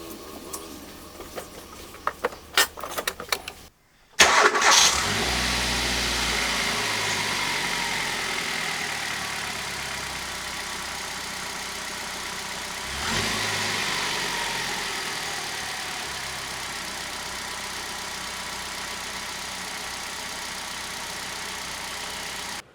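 A Hyundai i10 with old spark plugs cranks briefly, catches and settles into a steady, slightly rough idle that runs loud and close for the rest of the clip, after some light handling noises at the start.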